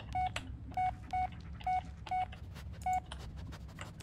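Answering machine in the Blair Witch video game beeping through voicemail playback: a series of six short electronic tones at uneven intervals over a low, faint background hum.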